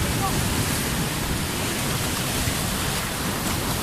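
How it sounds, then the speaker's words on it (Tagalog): Strong ocean waves roll in on a Ternate, Cavite beach near Kaybiang Tunnel as a steady, loud, broadband surf roar that holds unbroken throughout, with no clear breaks between swells. "Ang lakas ng alon."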